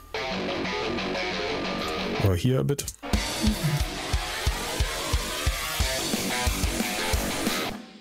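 A thin electric guitar plays a choppy riff with quick rhythmic strums, and a voice speaks briefly near the start.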